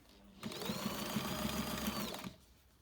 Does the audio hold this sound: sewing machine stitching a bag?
yes